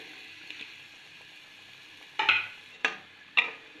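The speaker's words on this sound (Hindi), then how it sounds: "टमाटर का पेस्ट डाल के साथ इसमें हम आलू शामिल कर देते हैं" Cut potatoes go into tomato paste in a pan for a village-style guar bean curry, giving a soft sizzle with three sharp stirring scrapes near the end.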